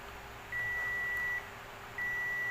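Continuity-test beeps from a multimeter checking transistors in a 150-watt OCL power amplifier: two steady, fairly loud electronic tones, the first lasting under a second and the second starting near the end, over a low background hum.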